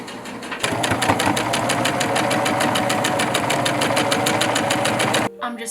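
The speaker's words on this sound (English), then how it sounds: "I'm just about to sew the last line of stitching" A sewing machine runs close and steady as it stitches a comforter cover, its needle tapping in a fast, even rhythm for several seconds before stopping abruptly.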